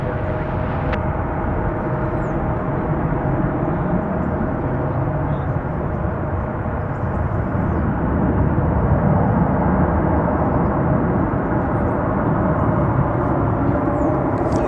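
An American Airlines airliner taking off at DFW Airport, a loud, continuous deep engine roar that stays strong and steady throughout with no talking.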